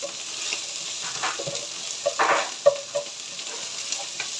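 Mushrooms and onion fry in a pan with a steady sizzle and occasional utensil clinks and stirring scrapes near the middle; no one speaks.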